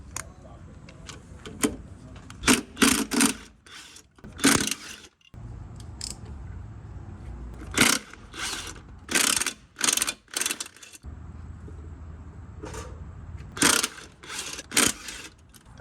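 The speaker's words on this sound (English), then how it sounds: "we just got all 8 bolts out, which connect the flex plate to the torque converter" Bolts being removed from the flex plate of a Mitsubishi 4G63T engine during removal, heard as close metallic ratchet clicks and tool clinks in short bursts, with someone talking between them.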